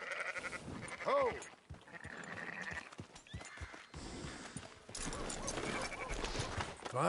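Sheep bleat in a PS4 video game, one clear wavering bleat rising early and others scattered among hoofbeats and farmyard noise, while someone talks intermittently.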